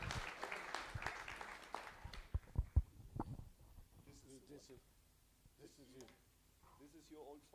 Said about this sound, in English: Please clap a hand for my good friend Taro from Japan